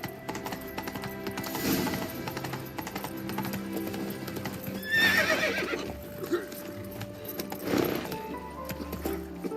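Geralt's horse Roach in The Witcher 3 game, hooves clip-clopping at a gallop with a couple of whinnies breaking through, set against ambient game sound and music, no speech.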